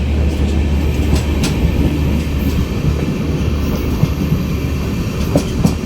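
A train rumbles steadily along the rails, a continuous low roar with faint rhythmic clatter and occasional metallic ticks, close and fairly loud.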